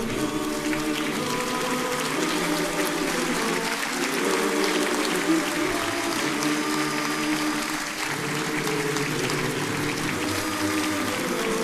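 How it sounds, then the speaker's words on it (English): A theatre audience at a Heart O' Lakes Harmony show applauds the performers Forte, the sustained clapping staying loud and even throughout with no break and no talk over it. "Ladies and gentlemen, please give a round of applause to Forte."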